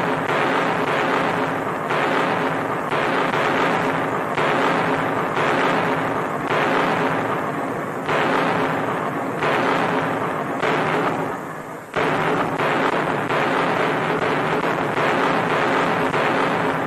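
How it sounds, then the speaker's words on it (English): WWII Allied big guns firing at night in North Africa, a dense, continuous rumbling barrage of heavy artillery with repeated booms blending into a loud, sustained roar throughout. "Darkness falls, the Allied big guns go into action to prepare the way for complete collapse of the Axis"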